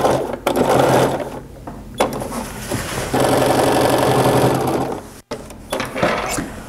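Sewing machine stitching an elastic channel on swim trunks, a loud close whirring run in several bursts, with short pauses and one brief stop between them.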